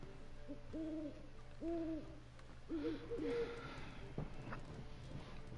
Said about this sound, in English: Miss your Zoltan, you old bird? What's this? Haven't even drunk her water? Naughty bird